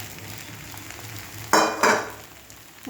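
Vegetables hit a hot pan and flare into two loud bursts of sizzling as they are stirred, then settle into a quieter frying hiss.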